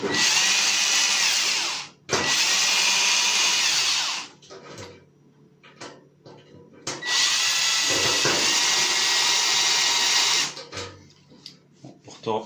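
A power rivet tool bought from AliExpress whirs loudly in two long bursts while setting rivets, separated by quieter clicks and handling noises.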